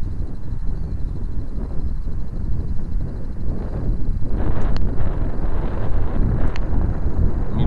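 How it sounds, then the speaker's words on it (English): Gusts buffet an outdoor microphone near a small toy quadcopter in flight, a constant low rumbling roar that grows stronger toward the end, with faint high motor whine and a few clicks. "It's a bit windy"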